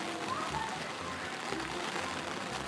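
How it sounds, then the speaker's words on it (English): Rain falls steadily outside, a soft continuous patter with faint droplet ticks and no talk over it. "And it's raining."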